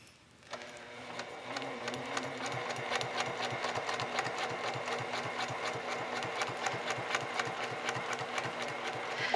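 A sewing machine runs steadily while free-motion quilting along a ruler with a ruler foot. After a short start it settles into a fast, continuous, close rhythmic stitching hum that runs without a break.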